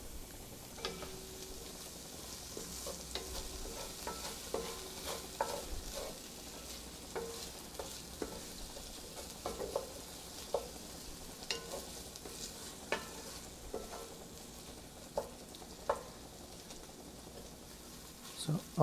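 Six ounces of tomato paste sizzles softly in a pan over medium heat while a spoon scrapes and stirs it with frequent small taps and clicks, fairly quiet throughout.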